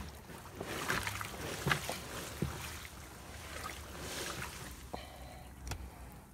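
Water and concrete mix are swirled inside a trash can, making soft, faint sloshing and washing sounds with a few light knocks against the can's walls.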